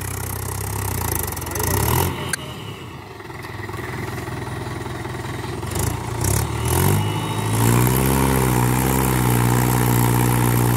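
A Mahindra 575 tractor hauling a loaded dumper trolley, stuck and struggling outdoors: a rough, noisy engine idles and shifts at first, then revs up into a louder, steady droning roar for the last few seconds.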